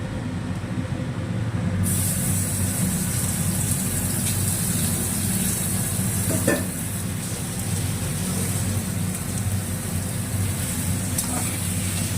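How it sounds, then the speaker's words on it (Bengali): Chicken seasoned with salt and pepper sizzles in butter in a pan, a dense, steady hiss close up that runs continuously without a break, with a brief clatter around the middle and no talking. "এবার অল্প একটু নেড়ে ছেড়ে নিতে হবে কিছুক্ষণ, চিকেনটা একটু ফ্রাই করে।"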